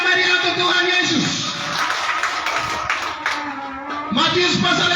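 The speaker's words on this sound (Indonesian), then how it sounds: "Tepuk tangan yang meriah untuk Tuhan Yesus." A crowd claps and cheers at an outdoor gospel gathering at Pasar Baru market in Sentani, with dense applause that swells, eases mid-clip and surges again near the end, mixed with voices.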